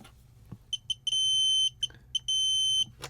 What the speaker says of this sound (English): When I turn this around, you'll start hearing the beeps.